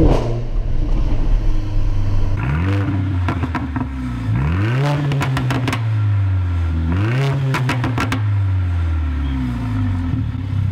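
A Mercedes A45 AMG with 381 horsepower idles loudly, then revs up sharply three times, each climb followed by crackles and pops, with a steady idle between bursts.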